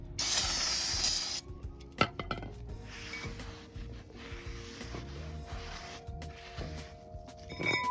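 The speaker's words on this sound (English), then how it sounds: "use brake clean to get the factory grease off of there. So just spray it down" A loud aerosol spray of brake cleaner hisses for just over a second on brake parts of a Toyota 4Runner, followed by clinks and rustling of handling metal parts.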